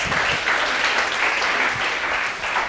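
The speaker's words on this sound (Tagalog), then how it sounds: "The best mong palakpak para kay Jesus." A church congregation applauds for Jesus during a Filipino worship service, a steady, dense wash of many hands clapping together, loud and continuous throughout with no voices rising above it.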